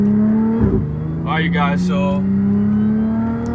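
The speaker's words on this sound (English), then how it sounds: "this is my 2012 Audi S4" Supercharged 2012 Audi S4 engine idling with a steady low hum, a brief rev near the start, as someone talks over it.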